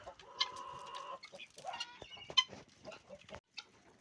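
Farm poultry cluck in a pen on a rural homestead, loud and close. Repeated clucks and short calls overlap, with one louder squawk partway through and quieter pauses between.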